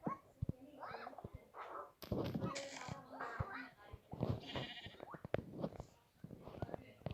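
Sheep bleat in short repeated calls, fairly close, mixed with children's chatter and scattered bumps.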